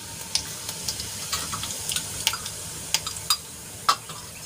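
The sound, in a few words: cumin seeds sizzling in hot oil in a kadai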